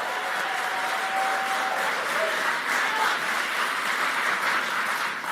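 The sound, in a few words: crowd applauding at a speech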